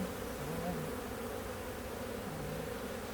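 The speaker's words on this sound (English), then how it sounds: "This hive here's a little nervous." Honeybees buzz steadily around an open hive while splits are being made, a dense, continuous drone close by with no talking over it.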